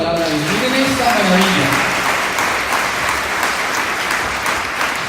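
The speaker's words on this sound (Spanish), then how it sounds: "Denle un aplauso a esta palabra de Dios." A crowd claps loudly and continuously for several seconds at a church sermon, while a voice speaks over the start of the applause.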